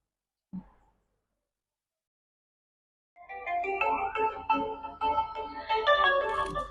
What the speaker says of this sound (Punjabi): ਚਿੱਤੇ ਦਾ ਫੋਨ ਆ ਗਿਆ